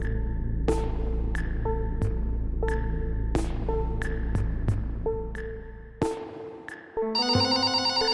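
An electronic phone ringtone plays a repeating tonal melody, then shifts to a different, brighter chiming pattern near the end.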